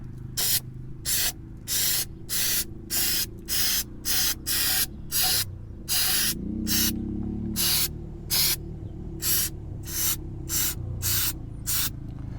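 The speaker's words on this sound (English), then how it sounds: "So shake up the can for a little bit, and then you're going to be able to spray away." Black rust-protective coating sprayed from an aerosol can onto a trailer hitch, a string of about fifteen short, even hissing bursts in a steady rhythm, close and clear with a faint low hum underneath.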